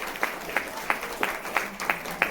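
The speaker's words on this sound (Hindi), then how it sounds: "ताली बजाओ, तारीफ करो जोर से करिए।" A church congregation applauding during a Hindi-language Christian worship service, giving a few rhythmic bursts of clapping at a steady pulse, moderately loud and fairly close.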